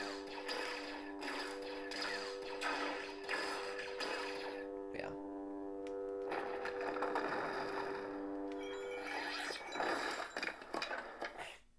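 A Kyberphonics Last Jedi V2 lightsaber sound font plays from a Graflex saber: a buzzing hum with swinging whooshes and crackling clash bursts, fairly faint and close.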